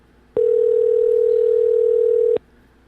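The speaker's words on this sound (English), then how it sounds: "You never really know what to say when the phone is ringing." A single steady ringback tone sounds during an outgoing phone call, one clean sustained beep lasting about two seconds, loud and alone before cutting off sharply.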